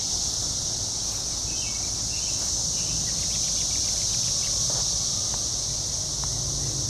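Brood X cicadas on an Ohio farm drone in a continuous high, shrill buzz that never breaks, steady and loud throughout, with faint bird calls and rustling beneath.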